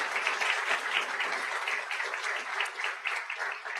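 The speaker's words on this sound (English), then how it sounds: "So please give them a round of applause." An audience at a university convocation claps for the undergraduate education team, a steady, dense wash of applause throughout.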